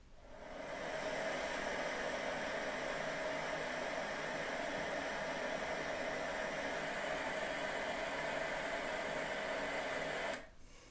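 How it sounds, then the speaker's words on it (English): Steady broadband airplane cabin engine hum, a constant whooshing drone heard alone for about ten seconds before cutting off abruptly near the end. "that one is actually like the sound you hear in a plane"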